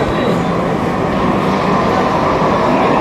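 Train arriving at Sealdah station, a loud continuous rumble and rush of wheels on track, steady and close with no break, with a voice faintly underneath.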